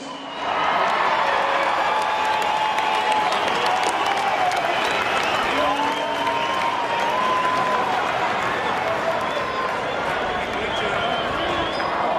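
A large rugby stadium crowd applauds Greg Inglis onto the stage, a steady roar of clapping and cheering that holds throughout, with a voice talking over it.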